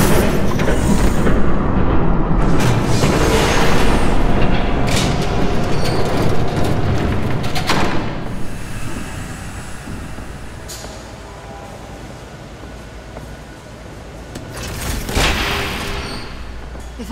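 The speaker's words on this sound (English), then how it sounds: "There's a train coming." A train rumbles past in the Batman Telltale video game: a loud, heavy rolling roar with booming impacts that eases midway, then swells again near the end, with no speech.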